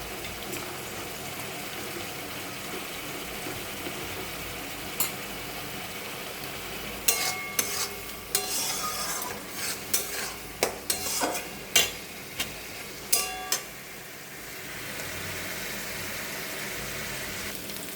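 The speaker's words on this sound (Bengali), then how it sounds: "এটা একটু ভালো করে ভেজে রসুন সেদ্ধগুলো দিয়ে দিই" Onion and tomato paste frying in a pan with boiled garlic added for a pea ghugni, a steady sizzle broken by a run of sharp clinks and scrapes of a spoon stirring midway.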